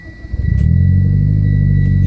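A 2014 Mitsubishi Evolution MR starts up with a quick cranking stutter that catches into a loud engine flare, then holds a strong, steady rumbling idle close by.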